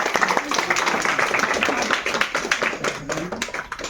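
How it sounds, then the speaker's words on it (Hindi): Parents and students at a school parent-teacher meeting clap for two students, Aakash and Sapna, with a busy, rapid patter of many hands running throughout at moderate volume and some voices faintly mixed in. "और इनके लिए तालियां बजाएं।"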